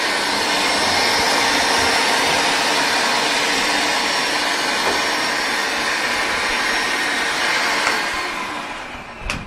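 A vacuum cleaner runs steadily and loudly with a broad whooshing roar while cleaning the floor inside a laundry-room dryer, its motor note fading slightly near the end.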